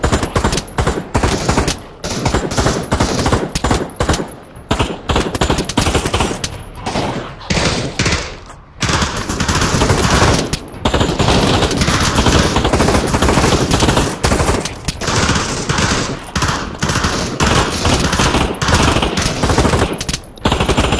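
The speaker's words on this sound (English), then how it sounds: "Dude, you guys have like a firing squad going on over there" Dense, continuous automatic gunfire from a firing squad in the VR shooter Pavlov, set in a prison during a virus outbreak, with loud overlapping bursts of shots and thumps for the whole stretch and only brief gaps.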